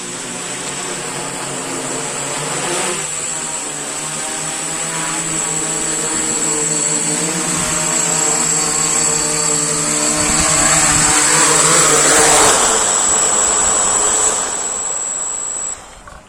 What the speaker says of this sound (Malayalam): നമ്മളിപ്പോ ഈ ഡ്രോൺ ഒന്ന് കൊണ്ടുവന്ന് ലാൻഡ് ചെയ്യാൻ പോകുന്നത് കേട്ടോ